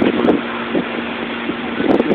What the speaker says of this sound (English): the wind is extremely high